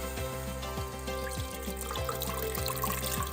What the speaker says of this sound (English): I am just gonna dump the water